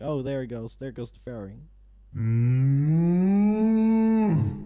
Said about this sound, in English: You can probably hear some cows moving in the background still,